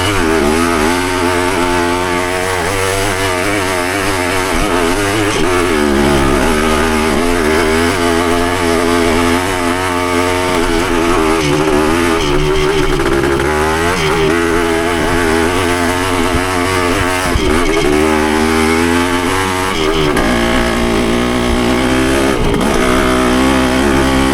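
A Yamaha CT3 175 motorcycle buzzes along on a ride, its single-cylinder two-stroke engine loud and continuous with rising and falling revs through gear changes.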